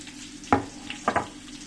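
Gobi chilli mixed in a hot pan with chilli sauce, two or three short scraping stir strokes over a low steady frying hiss, close and moderately loud.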